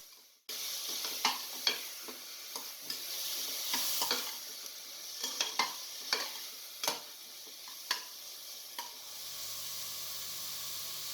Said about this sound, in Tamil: இப்போ தக்காளி போட்டுக்கலாம். இப்போ கொஞ்சம் இது வதக்கணும்.